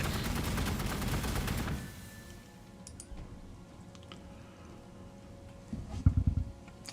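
Rapid, dense gunfire from the Warhammer 40,000: Gladius strategy video game, loud sustained volleys that cut off abruptly, followed by quieter ambience and a short second burst of shots.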